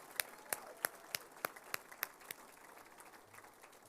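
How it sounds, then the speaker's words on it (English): Sparse applause from a banquet audience at an Indiana girls basketball hall of fame ceremony, a handful of distinct claps spaced out and fading over a few seconds, thin and somewhat distant. "please join me in giving a round of applause to these amazing athletes and legends from"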